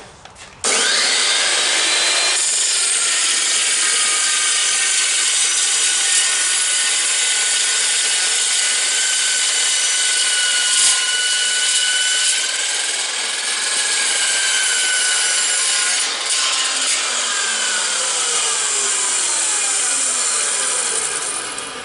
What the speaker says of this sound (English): look at the clean cut on that side with the saw